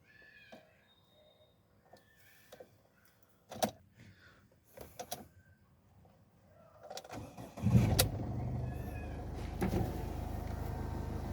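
A 2015 Ford EcoSport Titanium's 1.5-litre diesel engine cranks over and catches after several faint clicks and knocks, then settles into a steady, gruff idle that carries on to the end.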